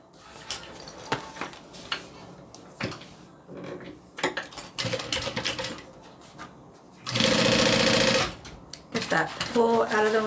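A sewing machine stitches a backpack's inside lining to the top of a zipper, its loud steady whir running for about a second near the end, amid handling clatter and soft talk.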